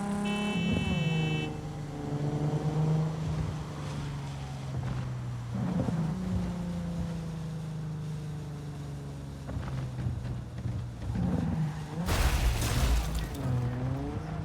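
A car in the video game Cyberpunk 2077 drives with a droning engine that rises and falls through gear changes, then a loud burst of tire squeal and skidding near the end, with no talk.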